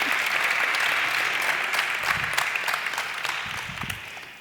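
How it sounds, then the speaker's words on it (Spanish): An audience at a tech conference talk gives a dense, sustained round of applause that gradually thins out over a few seconds. "Queríamos dejar que disfrutara bien del aplauso"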